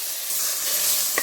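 Chopped tomato and bird's eye chili sizzle loudly in a hot pan for a Kerala-style squid and shallot roast, a dense close frying hiss with a brief stirring clink near the end.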